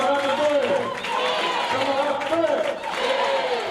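Audience applause at a political gathering, dense continuous clapping mixed with crowd noise and cheering voices that persists steadily for nearly four seconds, fairly loud throughout.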